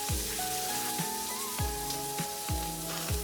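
Onions soften in a pan with a little sugar, giving a steady, dense sizzle close by, with soft scrapes of stirring recurring at regular intervals and no voices over it.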